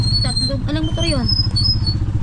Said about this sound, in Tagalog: Tatlong motor yun. Isang tricycle.